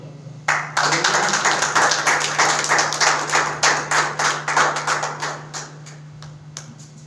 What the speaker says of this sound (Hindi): चलो एक्टिव होने तालियां बजाओ जरा